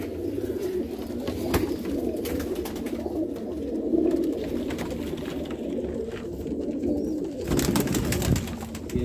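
Teddy pigeons coo in soft repeated low calls over a steady murmur of background noise, with several birds close by.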